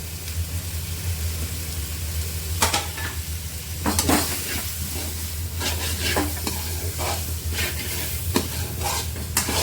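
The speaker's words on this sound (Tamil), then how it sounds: "இப்போ அந்த முருங்கைக்காய் வதங்கி வச்சுருவோம்." Drumsticks stirred in a pan with spices for a coconut milk egg gravy, a continuous close sizzle under a steady low hum, with scattered scrapes and clinks of the spoon against the pan.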